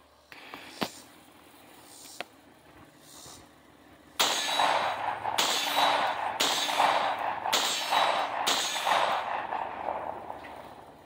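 A Panzer Arms M4 12 gauge semi-automatic shotgun fires at steel targets: a few faint early knocks, then a run of five or six loud, evenly spaced booms with ringing tails, fairly close.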